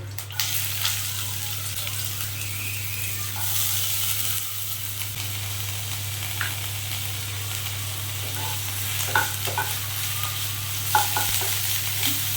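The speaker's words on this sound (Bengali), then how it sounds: "আঁচটা বাড়িয়ে আমি মিনিট দুই ধরে লাল করে পেঁয়াজটাকে একটু ভেজে নেবো" Onion and garlic frying in a few spoonfuls of oil over raised heat, a steady broadband sizzle with occasional stirring clicks and scrapes, continuous and moderately loud over a low steady hum.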